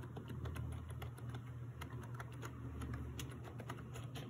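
Quiet typing on a Logitech MK220 plastic keyboard, with rapid, soft, even keystrokes and no talking.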